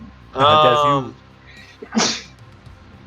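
A single loud, close sneeze with a voiced burst, then a short spoken reply during a tabletop role-playing game session.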